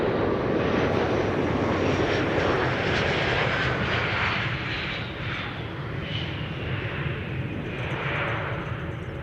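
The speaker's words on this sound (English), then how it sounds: "747 overhead from the south" A Boeing 747 passing overhead near Amsterdam Schiphol Airport, a loud, broad engine roar sustained throughout with a slowly shifting whine, gradually easing toward the end.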